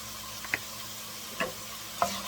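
A spoon stirs small diced red pepper cooking in a soup pot, three distinct scraping knocks spaced across a soft steady sizzle.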